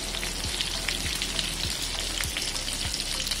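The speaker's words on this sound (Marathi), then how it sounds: "अशाच पद्धतीने आपण तळून घ्यायचं आहे." Tandoori prawns fry in a pan with a loud, dense, continuous sizzle and several soft, evenly spaced low thumps beneath it; no one speaks.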